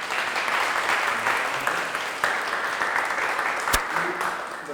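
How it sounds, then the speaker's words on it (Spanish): A conference audience applauds after a talk on conservation of priority species, producing steady, dense clapping that holds for several seconds at even loudness, with one sharp louder clap near the end. "Le damos un fuerte aplauso."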